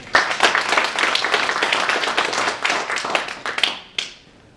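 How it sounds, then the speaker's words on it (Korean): An audience at a wildfire-strategy seminar claps to welcome a speaker, a brisk run of many hand claps that builds briefly and then fades out quickly. "큰 박수로 환영해 주시면 감사하겠습니다."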